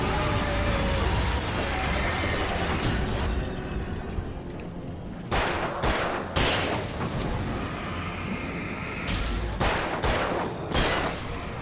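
Gunfire in the video game Alan Wake, with a series of heavy booming shots spaced irregularly over a loud, dense background of rumbling game noise and impacts.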